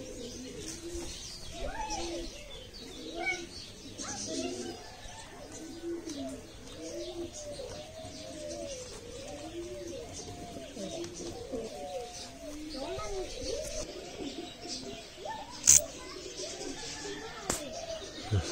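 Pigeons coo steadily in a repeated soft rhythm while being fed in a park, with occasional sharp clicks and light bird chirps over quiet outdoor background.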